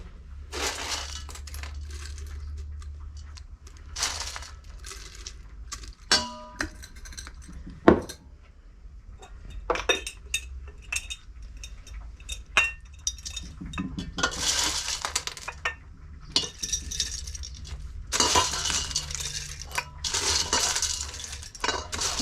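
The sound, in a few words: glass jars being filled with dehydrated cherry tomatoes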